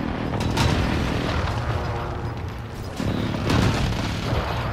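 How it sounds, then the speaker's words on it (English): Precision airstrike explosions in Call of Duty Warzone, heard as a continuous dense rumble of booms with heavier swells around the middle and near the end, loud and sustained with no talk. "friendly precision airstrike inbound"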